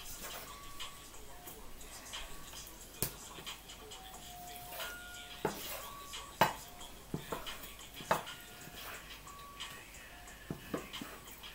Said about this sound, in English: now we are chopping our chicken